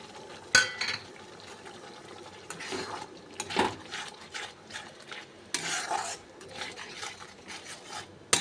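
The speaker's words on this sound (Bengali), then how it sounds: "পেস্টটা দিয়েও ভালো করে কষিয়ে নেব" Spice paste with chilli powder, cumin powder, salt and dry spice mix for chicken rezala is sautéed with a spatula, giving rhythmic scraping strokes and a faint sizzle.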